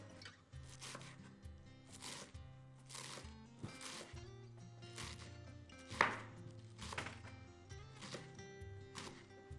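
Fresh green garlic chopped on a board, a series of regular, fairly quiet knife strokes in a steady rhythm, close and with no talk.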